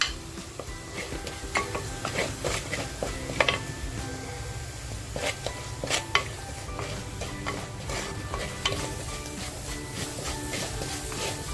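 Homemade masala for a stuffed crab curry roasting in a pan: continuous loud sizzle and hiss with frequent metallic scraping and clinks of a ladle stirring, close and without voices.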